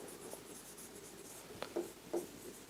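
Pen or chalk strokes write out a circle theorem for a class 9 maths lesson, a few short faint scratches near the end over quiet room tone.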